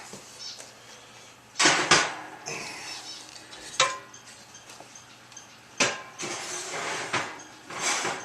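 Cast iron pans clank and knock as they are loaded into a cold oven, a scattered series of sharp metallic clunks and scrapes at close range with quiet gaps between.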